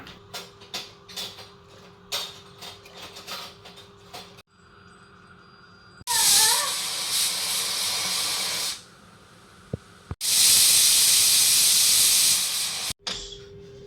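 A kitchen pressure cooker releases steam. After some soft clicks and rattling, it lets out two long, loud hissing bursts, and the first opens with a wavering whistle.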